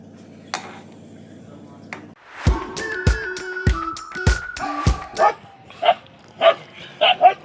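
Several dogs bark in the morning, sharp loud barks coming in an irregular burst, some higher yips mixed in. A low hum and faint household sounds sit underneath before the barking starts.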